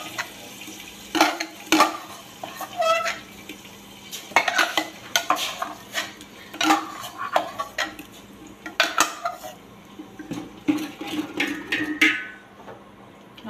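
Onion, chilli and garlic masala being roasted for dhaba-style chana masala, with repeated spoon scrapes and stirring clatter against the pan and a faint sizzle underneath, fairly close and steady.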